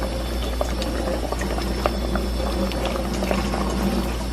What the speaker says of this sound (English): Let me turn this water off. That's what y'all hear in the background.